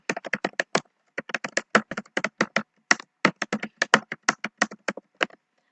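Rapid clicking of a computer keyboard as JavaScript code is typed, bursts of close, crisp keystrokes with brief pauses between words.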